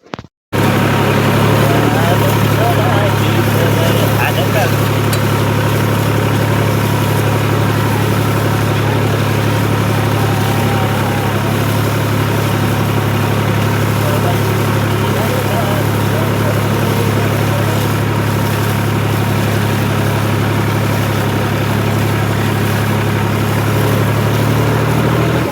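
A tractor engine runs at a steady idle on a turmeric farm, a low, constant drone that holds throughout with voices faintly present over it.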